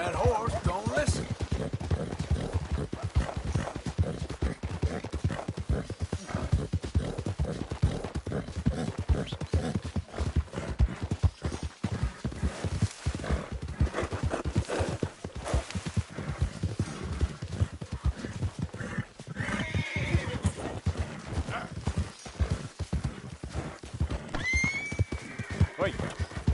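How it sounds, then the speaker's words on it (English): A horse in the open-world western game Red Dead Redemption 2 gallops with a rapid, continuous clip-clop of hooves and lets out several loud whinnies, with someone talking over the hoofbeats. "That horse don't listen."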